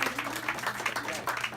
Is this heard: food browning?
no